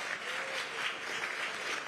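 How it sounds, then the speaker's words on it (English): An audience applauds for a conjunto band at a mayoral announcement event, a short, dense wash of clapping heard steadily at a distance. "Let's give them a big round of applause"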